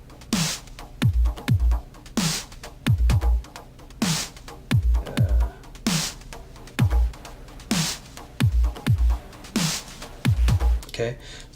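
Drum loop in Bitwig run through a Bit-8 bit crusher, giving a gritty, lo-fi edge to repeating kicks, snares and bright cymbal hits in a steady pattern for about eleven seconds, with no talking.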